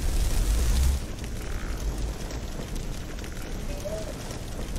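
A fireball spell bursts in Skyrim with a heavy, rumbling boom in the first second, then fades into a roaring, crackling wash that lingers at moderate volume.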